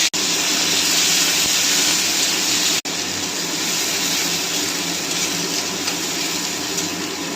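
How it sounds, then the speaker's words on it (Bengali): Onion pieces dropped into hot oil with cumin tempering, frying with a steady loud broadband sizzle throughout, briefly interrupted once before resuming as a constant hiss. "এবার পেঁয়াজটা দিয়ে দেবো"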